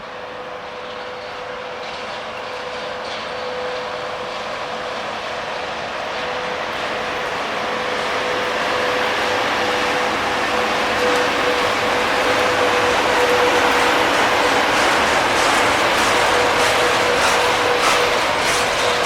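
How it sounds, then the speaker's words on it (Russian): A Russian freight train rolls past, its steady broad roar gradually swelling louder over the whole stretch, with a persistent tonal whine and a faint clatter of wheels running through it. "у нас едет новый поезд."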